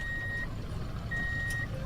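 Electronic beeping in the Armored Warfare tank video game, two long steady tones in succession over a low rumbling engine-like background, moderately faint.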